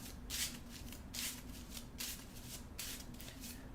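Someone riffle-shuffles a deck of Marvel Champions game cards at a tabletop: four quick, crisp fluttering bursts spaced about every three-quarters of a second, close and quiet over a faint steady hum, with no talking.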